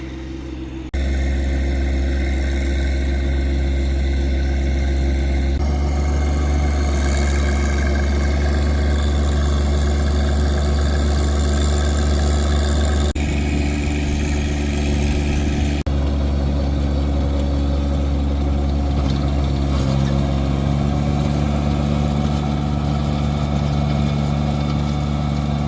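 An Allis tractor engine idles steadily outdoors by a garden, a continuous low rumble with a constant hum and vibration that holds unchanged for the whole stretch.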